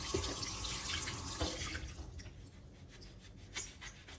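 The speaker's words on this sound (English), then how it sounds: "So right now, I'll be washing our lemon" A lemon rinsed under a running kitchen tap, water streaming and splashing steadily at close range, with a few drips and light clatter as the flow continues.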